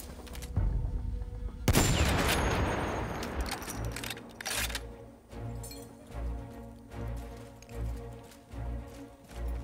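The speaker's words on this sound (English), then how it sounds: "Oh, this is a anti-tank rifle." Anti-tank rifle fire in Battlefield 1: a heavy, loud blast with a long decaying crash, followed by further sharp shots and distant booms over a pulsing low battlefield rumble.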